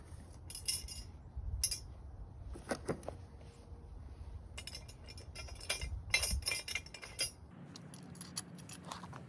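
Metal washers clink and jingle close by as parts of a VEVOR garden cart utility wagon are assembled, with scattered bright taps and rattles over quiet handling noise.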